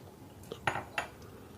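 A spoon clinks and scrapes against a metal pot while a milk dessert mixture is stirred, giving two or three bright, close metallic knocks over a quiet background.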